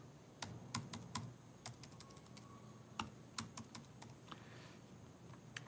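Keys tapped on a computer keyboard while entering a zip code on a help website, a quiet run of irregular clicks with short pauses, close by, no talk.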